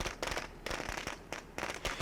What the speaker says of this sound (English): Let's go ahead and throw the firecracker in there.